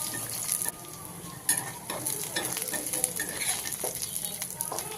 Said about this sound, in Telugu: ఒక 25 వరకు వలిచిన వెల్లుల్లి రెబ్బలను కూడా వేసుకుని వెల్లుల్లిని కూడా 1 నిమిషం వరకు వేయించండి